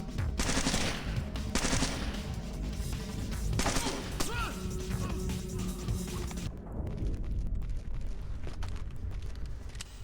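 Rapid, loud gunfire from a Splinter Cell stealth game on PS2, dense bursts of shots and crashes packed close together, with a sharp drop into quieter game sounds partway through.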